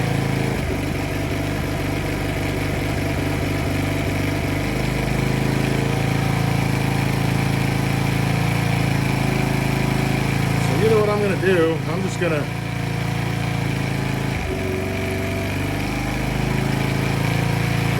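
A Polaris Outlaw 50 ATV engine with bad timing runs steadily and close by, an uneven mid-pitched drone that stumbles and shifts its beat a few times, with someone talking briefly over it.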